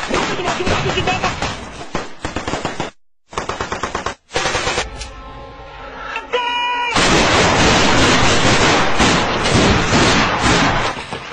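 Rapid bursts of loud automatic gunfire during military conscription, with brief pauses, then sustained continuous firing close by; voices talk and shout underneath.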